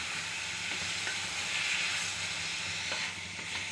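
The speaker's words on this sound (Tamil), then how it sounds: "தக்காளி கலந்து அதுவும் ஓரளவு நல்லா வதங்கி வரட்டும்." Chopped tomatoes sauté in a hot pan for tomato rice, giving a steady, even sizzle that holds throughout, with a few faint stirring clicks and no talk.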